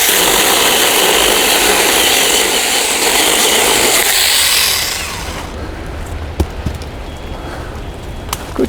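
A Seesii mini cordless one-hand chainsaw cuts through wood with a loud, close, buzzing whine for several seconds, then stops, leaving quiet with a few sharp knocks.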